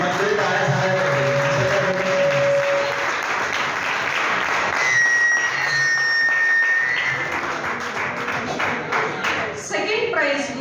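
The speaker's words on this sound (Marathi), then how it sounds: "टाळ्या झाल्या पाहिजे. मंडळी टाळ्या झाल्या पाहिजे." Sustained, energetic audience applause at a college science club prize-giving, a loud, continuous wash of many hands clapping with some crowd noise and brief voices mixed in.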